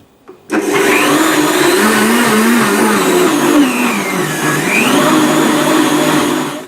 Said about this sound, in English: Just blend this